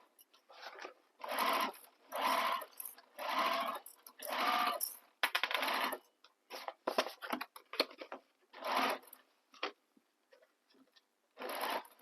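A sewing machine stitches fabric for a handbag in short, close whirring bursts of about a second each, separated by brief pauses and quieter handling sounds.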